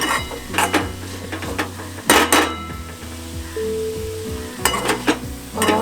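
A spoon stirs veg frankie filling in a pan on a gas stove, scraping and clinking against the metal in irregular bursts over a low, steady sizzle, close and fairly loud with no talking.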